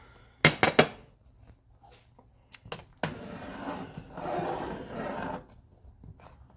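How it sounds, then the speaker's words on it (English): Chicken soup with tomato chicken bouillon being stirred in a pot: a few sharp clinks of a utensil against the pot, two more taps, then a longer stretch of scraping and swirling before it quiets. "I'm just gonna put those in my soup, and I will stir that right now"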